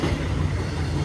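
A BNSF freight train led by a GE C44-9W Dash 9 locomotive rumbles past close by, a steady, loud rolling roar of wagons with no speech.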